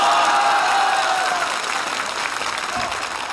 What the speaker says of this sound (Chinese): 此处有雷鸣般的掌声